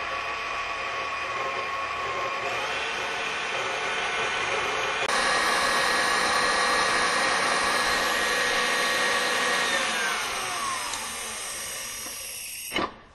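An electric mixer whips cookie icing in a bowl, starting lower and then switching up to a loud high speed, its steady whirring drone running alone for about twelve seconds before cutting off abruptly.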